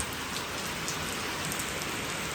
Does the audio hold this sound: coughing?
no